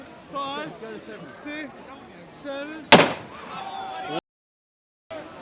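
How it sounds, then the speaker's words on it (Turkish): Fireworks burst during a crowded New Year celebration in Budapest, one loud sharp bang standing out among crowd chatter and cheering, with people talking throughout. "Her yerde havai fişekleri patlıyor ve çıldırıyor insanlar."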